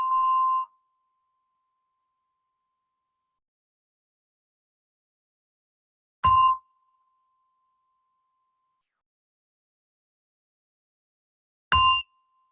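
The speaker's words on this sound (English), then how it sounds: "as you hear the gong" A meditation gong strikes three times at roughly six-second intervals, each a clear ringing tone that fades quickly into silence, the last two hits with a soft low thud at the attack.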